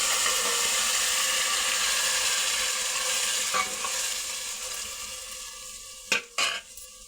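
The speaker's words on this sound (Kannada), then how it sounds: "ಈಗ ಅದನ್ನು ಎಣ್ಣೆಗೆ ಹಾಕ್ತೀವಿ." Ground masala paste with curry leaves frying in hot oil, a loud continuous sizzle with stirring scrapes, fading slightly toward the end before a few sharp clatters of a utensil against the pan.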